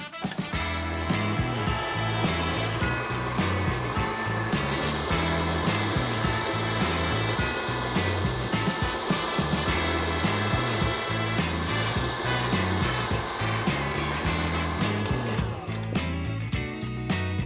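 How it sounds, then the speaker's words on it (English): An electric mixer whipping meringue whirs loudly and steadily for the whole stretch, a dense, unbroken motor drone close by. "So we're gonna just turn this mixer on."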